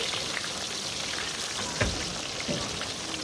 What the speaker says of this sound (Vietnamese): các cô đang làm món cá rán